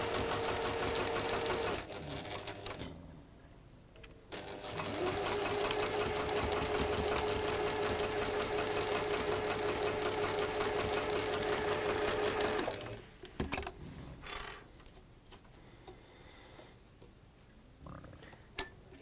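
A sewing machine chain piecing fabric in a workshop, running in long steady buzzing stretches with brief pauses, then stopping near the end among quieter handling noises.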